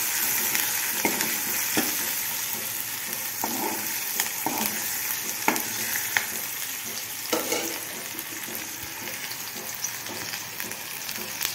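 Brinjal pieces for vangyachi bhaji are stirred and fried in a pan, with a continuous crackling sizzle broken by repeated scraping and clacking strokes of the spoon at an irregular rhythm, close and fairly loud.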